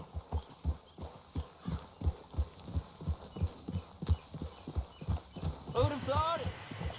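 Horse hooves clip-clopping in Red Dead Redemption 2, a steady rhythmic trot close by with a brief whinny near the end.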